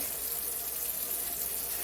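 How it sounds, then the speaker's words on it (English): Water runs steadily from a sink faucet, a constant close hiss and splash with no break across the short stretch. "the first thing I do is go ahead and turn on some water. I'm right here at the sink"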